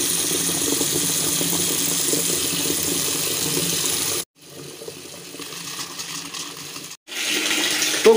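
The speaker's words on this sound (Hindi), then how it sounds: "ये 15 लीटर की बाल्टी होगी करीब, ये फुल हो गया, फुल होने वाला है और अभी भी एकदम खोलता पानी आ रहा है।" Hot water from an electric geyser pours steadily into a 15-litre bucket, a loud continuous gushing that breaks off twice briefly before resuming.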